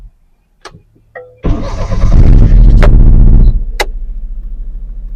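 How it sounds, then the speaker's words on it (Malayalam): A car engine cranks and catches during a four-wheeler driving road test, surging to a loud roar and settling into a steady, close idle after a few faint clicks. "സ്റ്റാർട്ട് ചെയ്യട്ടെ സ്റ്റാർട്ട് ചെയ്യട്ടെ"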